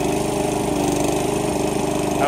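A riding lawn mower engine runs steadily and close by, a loud continuous droning hum with no breaks or speech.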